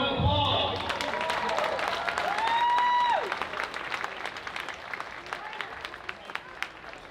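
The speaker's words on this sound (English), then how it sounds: "Give these two a round of applause." Crowd at a kickboxing event applauds after a bout, steady clapping and cheering mixed with a loud gliding horn or siren tone and an announcer's voice at the start, the applause thinning to scattered claps.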